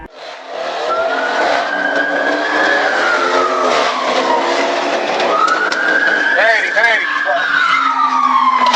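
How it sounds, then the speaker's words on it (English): A black and red Dodge Charger's engine roars and revs while tires screech in long, loud skids during a police chase, with a voice calling out partway through. "A sudden loud noise from a black and red Dodge Charger caught the officer's attention"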